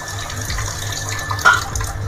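Water poured into a pan of egg curry with potatoes on the stove: a steady, soft running splash over a low background hum.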